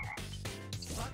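A frog croaks in Katamari Damacy Reroll, a few quick throaty cartoonish croaks in a row over game music, fairly faint.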